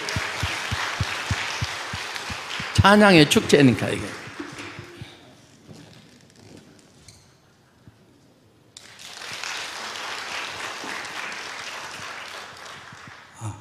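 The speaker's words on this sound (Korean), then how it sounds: "나오세요. 우리 박수로." Congregation clapping at a church worship gathering, a burst of applause under a pastor's spoken remarks, with speech continuing before and after.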